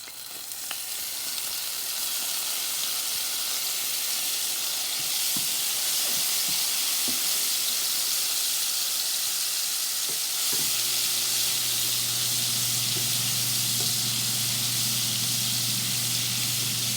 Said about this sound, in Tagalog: mainit na itong ating mantika. Ilagay natin ang bawang.